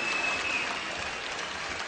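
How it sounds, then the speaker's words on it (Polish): Audience applause at a televised contest show, steady distant clapping from a crowd, even and sustained without breaks. "Proszę brawa"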